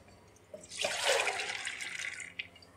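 Water pours into a cooking pot holding lentils, two cups' worth, a soft splashing rush that swells and trails off over a couple of seconds, fairly faint and with no talking.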